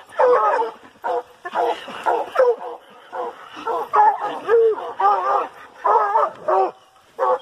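A coonhound out on a rainy coon hunt bays over and over, sending out a steady string of loud, drawn-out howling barks with short gaps between them.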